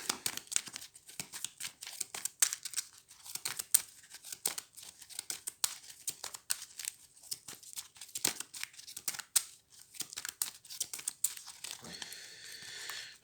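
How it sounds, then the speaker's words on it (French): Game objects for the Pathfinder Skull & Shackles board game are shuffled inside a box, producing irregular clacks, rattles and rustles in uneven bursts, close and fairly quiet. "Je vais mélanger les objets."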